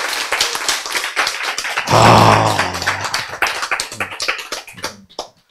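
An audience at a NEWSTART health lecture claps in a scattered burst, sharp individual hand claps rising into a brief swell and then thinning out, with a short vocal exclamation in the middle.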